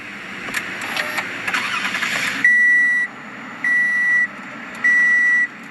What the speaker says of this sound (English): Just put your foot on the brake, hit the button to start.